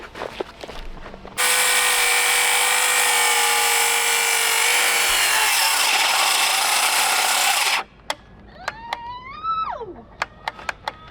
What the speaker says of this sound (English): Now we're gonna take it to the planer and do the planer trick